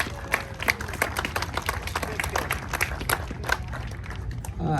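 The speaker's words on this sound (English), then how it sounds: "I want everybody to give a big round of applause for the HOG chapter here for that wonderful pancake breakfast" People at an outdoor Harley-Davidson bike blessing give a round of applause for the HOG chapter, a scattered burst of individual claps, fairly near and uneven, that thins out toward the end.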